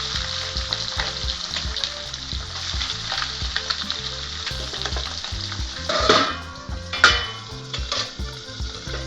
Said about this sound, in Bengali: এবার বাকি মাছগুলোকে ভেজে নেব।